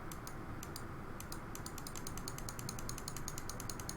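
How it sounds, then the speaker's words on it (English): Quiet keyboard keys or buttons clicked while playing the Train Life railway game, a quick irregular patter of light ticks that grows steadier toward the end, over a low constant rumble. "I'm just clicking stuff and hoping that we're going to hit that"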